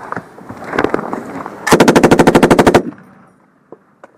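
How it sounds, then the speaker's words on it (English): A PKM machine gun fires during combat in Kunar, Afghanistan: one loud, close, rapid burst of about fourteen evenly spaced rounds, preceded by scattered softer noises and followed by a couple of faint distant pops. "In RPG, accurate PKM fire, just over our heads."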